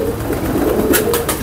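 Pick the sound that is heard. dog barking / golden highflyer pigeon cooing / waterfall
golden highflyer pigeon cooing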